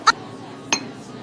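Two light clinks of dishes or glassware ring out in a small cafe, one near the start and another shortly after, over a faint, quiet room murmur.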